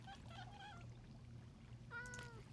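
Minecraft cat meowing twice in-game, a soft meow followed by a slightly louder one, over faint low background hum.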